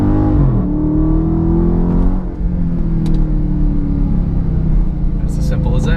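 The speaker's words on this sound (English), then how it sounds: "Foot all the way to the floor on the gas, and you just let go of the brake." A 2015 Dodge Charger R/T Scat Pack launches at full throttle with launch control, its engine roaring loudly and climbing through gears in a sustained, close rumble. A voice talks over it.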